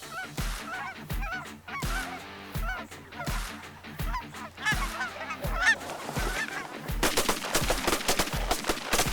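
Geese honk repeatedly and loudly, close by, during a hunt, over regular heavy thumps, and the sound grows into a noisy burst of gunfire near the end.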